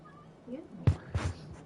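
A pet cat gives a short, rising meow, then a couple of louder, thumping bumps follow close by, heard indoors with a faint background hum.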